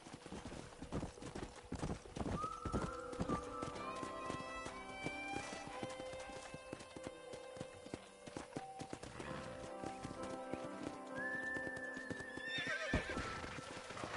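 Horse hooves clip-clopping steadily in Red Dead Redemption, with a few whinnies over busy game music and ambience, fairly close and continuous throughout.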